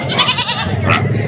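A billy goat bleats loudly and close by at a livestock market, a wavering cry that rises and falls over about a second.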